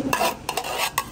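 A spoon scrapes creamy buko pandan from a bowl in three quick close strokes, light scratchy rasps with no talk.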